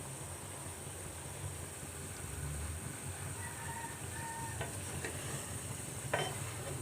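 Food with soy sauce and vinegar being stirred in a pan, a faint steady sizzle with a few soft utensil clinks near the end.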